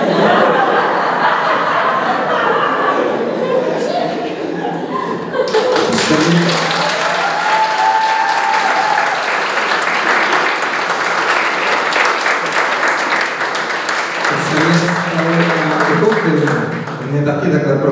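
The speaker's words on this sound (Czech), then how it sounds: "Takže potlesk patří Radku Hlaváčkovi z gymnázia Pardubice." Audience applause at a biology olympiad award ceremony, a loud sustained burst of clapping from a crowd that follows spoken announcements and some laughter.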